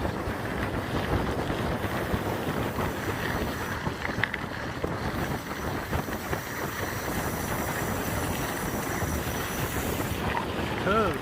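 Strong wind roars steadily across a sailboat's microphone during a Cactus Cup race, with rushing water and hull noise underneath and faint voices at times.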